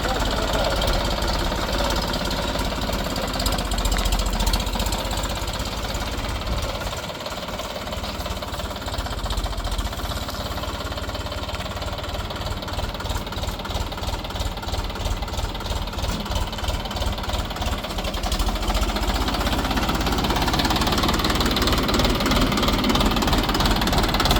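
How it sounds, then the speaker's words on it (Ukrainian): A Scout TU 254 walk-behind tractor engine runs in reverse gear, giving a steady, loud, close chugging with a fast knocking rhythm that continues unbroken for the whole stretch. "Вмикаємо реверс, так само рушаємо на місце."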